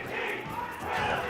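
A crowd at a Super Smash Bros. Ultimate tournament cheers and shouts, a short surge of voices that swells louder toward the end.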